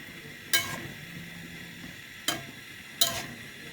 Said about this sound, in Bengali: নাড়াচাড়া করা হচ্ছে, মাংস কষানো হচ্ছে।